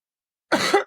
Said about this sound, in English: I've been coughing so bad